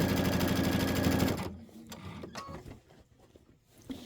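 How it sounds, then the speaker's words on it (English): A sewing machine stitches the full length of a quilt-top seam for a Kimberbell Enchanted Winter quilt, a dense, steady whir for about a second and a half before it stops, leaving quieter handling noises close by. "And now I'm just sewing the entire length."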